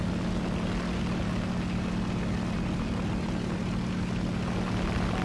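A dive bomber's aircraft engine in a video game drones loud and steady, a constant propeller roar with no pauses throughout.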